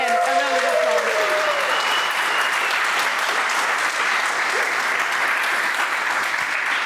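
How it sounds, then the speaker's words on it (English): Sustained applause from a large audience at a game jam awards event, a dense steady wash of clapping filling the room, with a few voices and whistles briefly rising over it early on. "So let's give them again a round of applause."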